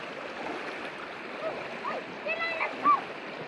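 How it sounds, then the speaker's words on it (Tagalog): A strong river current at a fishing spot rushes in a steady, moderately loud wash with small splashes and gurgles rising toward the end. "Malakas ang agos ng tubig"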